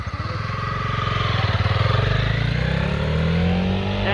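A Honda CB300R motorcycle pulls away with a steady, fairly close engine drone that climbs in pitch as it accelerates off, with no talking over it.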